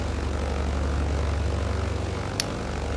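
Twin propeller engines of a BN2 Islander aircraft running steadily before taxi, a loud continuous droning roar with a brief click partway through.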